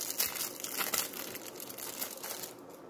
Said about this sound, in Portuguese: vamos abrir mais um envelope.